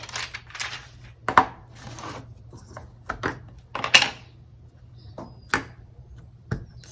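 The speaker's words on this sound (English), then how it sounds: "I'm going to stamp the other ones" A rubber stamp is pressed onto paper craft pieces for a pumpkin card project on a desk, giving several sharp separate thumps and taps at irregular intervals, close by, with faint room noise.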